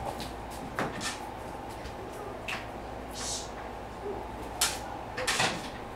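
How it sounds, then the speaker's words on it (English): A room door is shut indoors, with a few short bumps and clicks at moderate level against a steady background hum and no speech. "Let me close the door just a second."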